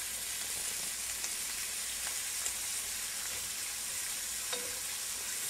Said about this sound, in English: I like to keep them moving to make sure we're spreading out that bacon grease.